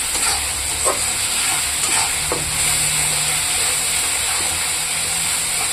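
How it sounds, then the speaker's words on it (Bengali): Spices and garlic frying in a pan for a Bengali rohu fish curry, a steady loud sizzle and hiss with occasional stirring scrapes, close by and with no talking. "এটা এখন আমি একটু লাল লাল করে ভাজবো।"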